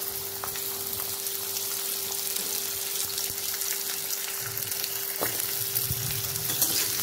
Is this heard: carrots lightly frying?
yes